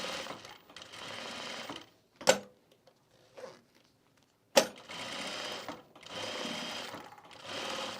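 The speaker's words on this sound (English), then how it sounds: "now we're gonna just edge stitch this through to the zipper and all through the layers here." A sewing machine edge stitches through a zipper and layers of canvas on a travel bag, running in steady whirring bursts separated by sharp clicks and quiet pauses, close and clear.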